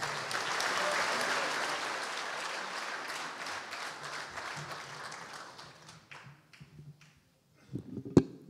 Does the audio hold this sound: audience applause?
yes